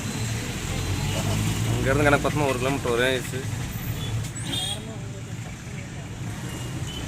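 Busy road traffic of cars and buses rumbles steadily throughout, a continuous mid-distance drone with passing engine noise, while people talk over it at a crowded temple pilgrimage spot during the Aadi Perukku festival.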